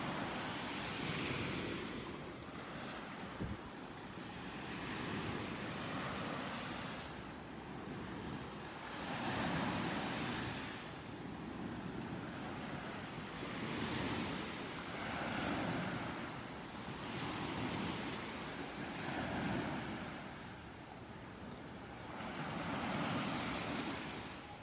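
Ocean surf on a beach in North Naples, Florida, with waves breaking in slow, regular swells and a steady wash of wind over the microphone, moderately distant and without voices.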